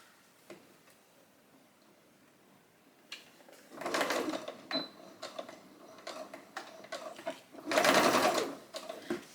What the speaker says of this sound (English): So I'm just going to stitch that in place now.